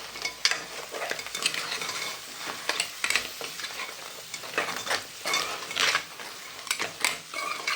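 A spoon stirring crab stuffing masala in a hot pan, with repeated scraping strokes and clinks against the metal over a steady sizzle, close and fairly loud.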